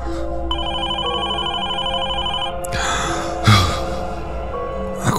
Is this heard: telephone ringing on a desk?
yes